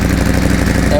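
Aprilia Tuono and Ducati V4 motorcycles idle at close range near the exhaust, giving a steady, loud, low rumble with a pulsing beat that holds throughout.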